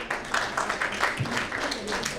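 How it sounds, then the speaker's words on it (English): A conference audience applauds panelists at a cyber security and geopolitics track session, a steady patter of clapping that holds at moderate volume throughout with no break. "Please join me in giving a warm round of applause to our esteemed panelists"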